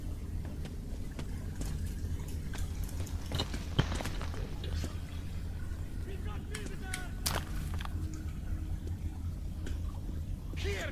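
Enemy gunfire in the video game Metro 2033, scattered sharp shots and cracks over a constant low hum, mostly moderate and somewhat distant, with one louder report near the start.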